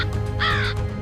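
A crow gives a single harsh caw, loud and close, standing out briefly over a low steady background hum of outdoor noise.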